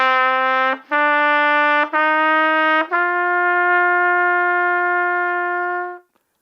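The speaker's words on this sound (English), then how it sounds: "So if I play the 5 notes together" Trumpet sounds a sequence of notes with brief breaks between the first few, ending on a long held tone. It is bright, close, loud and solo, then cuts off.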